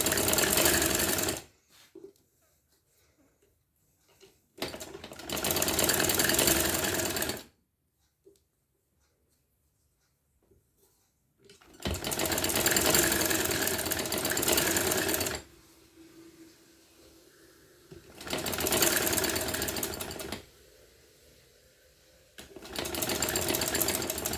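Sewing machine stitching folded fabric for trousers, running in three or four loud sustained bursts separated by short pauses and near-silence, close to the mic with no talk.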